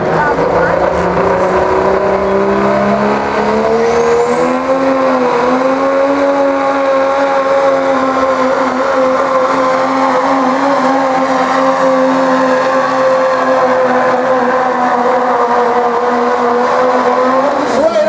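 A diesel pulling truck roars at full power during an open diesel truck pull at a county fair, a loud, sustained engine drone that climbs in pitch early and then holds steady for the whole run, with an announcer talking over it.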